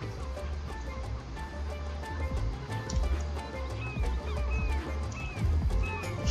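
Horses in the Sims 3 game whinny now and then over a steady ambient game soundscape, with faint clip-clop of hooves and chirping birdlike tones, no talk.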